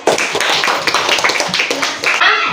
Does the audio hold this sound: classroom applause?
yes